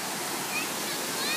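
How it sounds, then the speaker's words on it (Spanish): Water from an illuminated fountain rushes steadily at night in a park in Lima, Peru, a dense, continuous splashing hiss that fills the scene at close range. "esta es la primera fuente"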